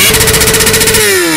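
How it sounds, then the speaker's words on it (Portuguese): Motorcycle engine roaring loud and close, a steady throbbing rumble with a pitch that slides lower near the end, with no talking over it. "Ele não pode ouvir o ronco de uma moto que a cabeça dele dói."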